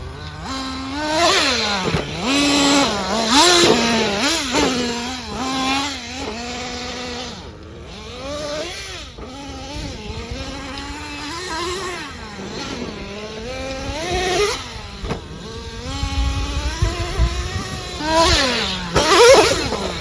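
A Traxxas T-Maxx 3.3 nitro RC truck's small two-stroke engine buzzes and revs up and down repeatedly, a loud, high, rasping whine rising and falling in pitch with no talk over it.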